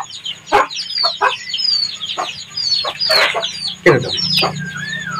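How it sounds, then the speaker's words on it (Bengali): Native desi chicken chicks and hens fill the space with shrill, scattered cheeping and short clucks. Some calls sound close and others farther off, over a steady low hum. "বাচ্চাগুলো দেখেন অরিজিনাল একটা দেশি মুরগির বাচ্চা"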